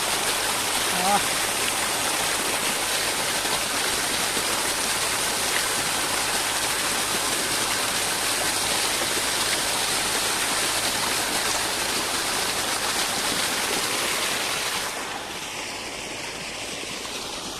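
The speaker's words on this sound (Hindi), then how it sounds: "ठंडे ठंडे पानी से मुंह धो लिए हैं" Steady rushing cold water runs close by as someone washes their face, like a tap or stream splashing, then drops to a softer hiss near the end.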